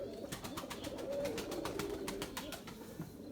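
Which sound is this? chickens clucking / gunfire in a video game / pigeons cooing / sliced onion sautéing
pigeons cooing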